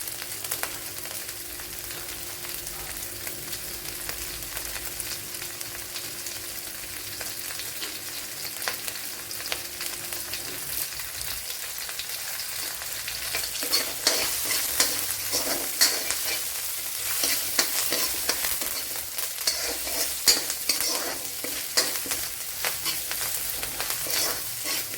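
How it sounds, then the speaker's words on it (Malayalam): Curry leaves fry in hot oil alongside garlic and ginger for a Kerala-style chicken dish, sizzling and crackling steadily, with the spitting growing livelier and more intense about halfway through, no voices present. "ഇനി ഇതിലേക്ക് കറി ലീവ്സ് ഇട്ട് കൊടുക്കുക."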